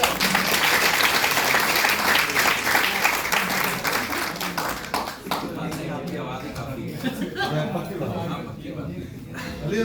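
An audience applauds loudly and steadily after a speech at a gathering, the clapping dense at first and then thinning, with voices and murmurs mixed in underneath.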